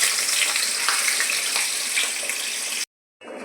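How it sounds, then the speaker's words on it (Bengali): Cubes of paneer frying in a pan give a loud, dense, steady sizzle close up, cutting off abruptly near the end before a brief return, with no voices. "পনিরটা ভেজে নিচ্ছি"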